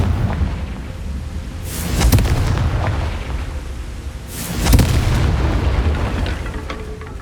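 Confringo fire spell blasts in the Hogwarts Legacy video game: two loud, booming explosive bursts a few seconds apart, each with a sharp crack and rumbling tail over steady low game ambience.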